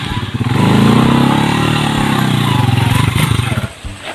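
A motorcycle engine starts and revs loudly up close, holding a rough, throbbing roar for several seconds before cutting down near the end.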